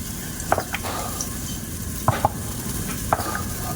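A cooking pot for macaroni soup is heating with a little oil in it. A faint, steady sizzle runs throughout, broken by a few sharp clicks and knocks of utensils against the pan, with no voices.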